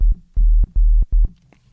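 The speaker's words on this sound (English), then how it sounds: "So you have this sine wave" Three steady low-octave synthesizer sine tones for a dubstep bass, each about a quarter second, pulsing in an even rhythm, loud and pure, with no talking.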